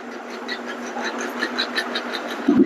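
Electric hair clipper buzzing steadily up close during a men's haircut, a continuous motorized whir with faint rising passes, ending in a brief louder bump.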